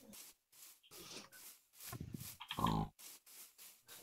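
Grunting Minecraft pig from the video game, a short burst of low grunts standing out amid faint intermittent game sounds.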